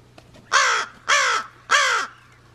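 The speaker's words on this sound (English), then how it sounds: "I can hear crows calling" A crow caws three times in quick succession, the raspy calls loud and near over a faint low hum.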